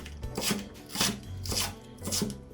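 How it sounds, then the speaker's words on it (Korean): A knife cuts a stalk of green onion diagonally on a board at a campsite, giving three firm chopping strokes at a steady, roughly half-second rhythm, close and clear with no talk. "일단 대파 한 대는 어슷하게 썰어줄게요."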